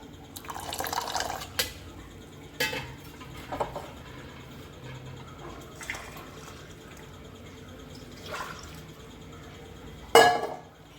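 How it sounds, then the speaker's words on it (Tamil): Milk is poured into a pot of mudakkathaan keerai soup, with faint splashes and drips, scattered light clinks of utensils, and a sharper clatter near the end, all quiet and close. "இப்போ இதில் கொஞ்சோண்டு மில்க் ஆட் பண்ணிக்குவோம்"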